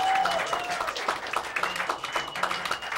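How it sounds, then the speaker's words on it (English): An audience at a midnight show claps in a short, steady burst of applause that sounds moderately close and fairly quiet overall. "How about it? Round of applause."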